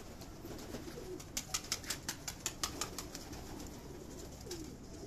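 Pigeons on a rooftop coo softly against a steady outdoor hiss, broken by a quick run of sharp wing claps near the middle, close and distinct.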